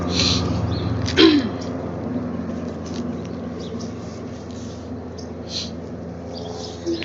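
A single sharp sneeze bursts out early, followed by faint shuffling and rustling noises nearby.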